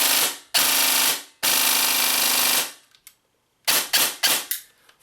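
A VFC M27 IAR airsoft rifle with a 28 TPA motor and 10:1 SSG gears on an 11.1 V LiPo fires loud, rapid full-auto bursts close by: three long strings, then several quick short bursts.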